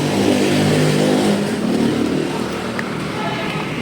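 Yamaha XSR motorcycle riding on a hot day, its engine humming and revving steadily up close with wind rush over it throughout.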